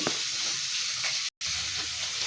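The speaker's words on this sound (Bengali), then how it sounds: "আমার ঝোল ফুটতেছে" Rui fish curry bubbles and boils in a covered pot, a continuous close hissing simmer with soft crackles, interrupted by one brief silent gap.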